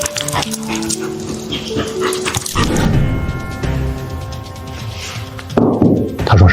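A corgi being walked gives short barks and whimpers close by, over a busy background wash of other sound.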